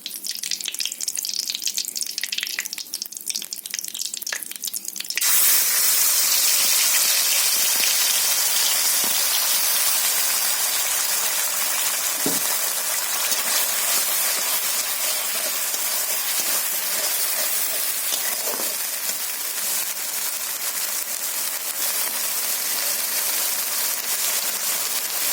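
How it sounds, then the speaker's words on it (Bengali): Ground paste of onion, tomato, green and red chillies, cumin, coriander, ginger and garlic sizzling in hot oil in a kadai, a loud steady hiss that erupts after a quiet start and holds constant throughout. "তো এটা এখন কড়াইতে তেলের মধ্যে আমি দিয়ে দেবো বন্ধুরা।"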